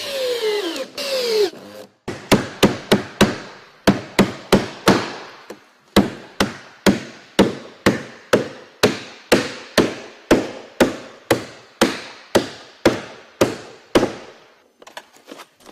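Hammer blows flattening the cut excess of a metal ridge panel over a wooden 2x2 at a roof ridge, a near, loud series of some two dozen sharp strikes in a steady rhythm, with no talk.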